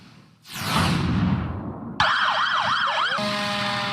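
Wailing, yodeling siren from first responder vehicles at a welcome parade, starting loud and close after a burst of broadband noise, its pitch sweeping up and down repeatedly before shifting to a steadier tone.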